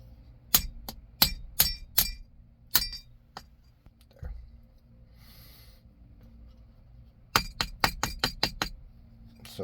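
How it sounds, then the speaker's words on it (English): Sharp, bright taps from a soft blow hammer on a plastic shifter bushing of a 2nd-gen Toyota 4Runner come in quick bursts, a cluster at the start and another near the end, separated by a quieter gap with faint rustling. "just a little tap with a hammer, soft blow hammer, and that slides on"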